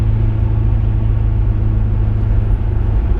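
Audi A4 with a K04 turbo upgrade on a test drive: a loud, steady low engine rumble with intake noise runs throughout, the car driving continuously without a distinct spool whine standing out.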